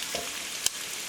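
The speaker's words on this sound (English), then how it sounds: "I'm going to saute the onions." Onions sautéing in canola oil, a quiet, steady frying hiss close by with a single sharp click partway through and no voices.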